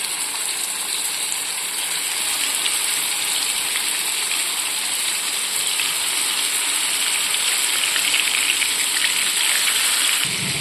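Chicken pieces sizzling in hot sunflower oil in a pan for Chinese-style chicken noodles, a loud, steady broadband hiss and crackle that holds evenly for the whole stretch with no voices.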